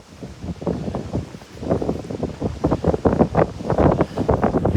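Strong wind gusting across a beach at Delnor-Wiggins, roaring and buffeting the microphone in uneven surges that grow louder toward the end, with a faint wash of surf beneath.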